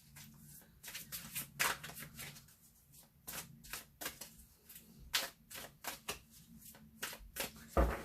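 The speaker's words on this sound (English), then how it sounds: "Okay, shuffling them up." Deck of cards shuffled by hand for a Wheel of the Year card reading, close, quiet riffles and crisp snaps in short bursts with small pauses between.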